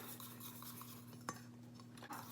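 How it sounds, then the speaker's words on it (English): An egg mixture with sugar and salt is stirred for scrambled eggs, with soft scraping swirls and a couple of light utensil clinks, heard faintly and close. "So, mix that again."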